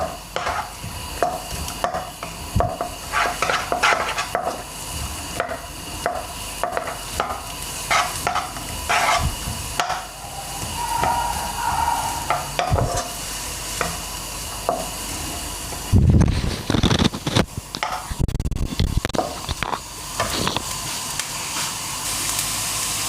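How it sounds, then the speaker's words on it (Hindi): Finely chopped medium onion sautéing in a pan, with a steady sizzle and hiss broken by scraping stir strokes and occasional utensil clatter, a louder burst of frying near the end. "एक दरमियानी साइज़ की प्याज है, इसको मैंने बारीक चॉप कर लिया, ये ऐड किया। इसको हल्का सा सोते करेंगे।"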